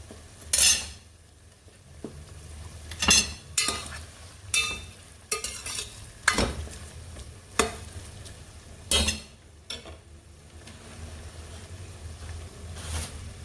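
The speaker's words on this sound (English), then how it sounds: "and then stir" A spoon stirs and scrapes in a pot of okra stew with fish and locust beans, about ten distinct clanks and scrapes in an uneven rhythm over a low simmer, close and clear.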